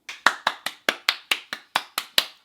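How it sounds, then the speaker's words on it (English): Ten or so sharp, evenly spaced hand claps from a single person, close and crisp, forming a steady rhythmic burst with no talking over them. "Round of applause."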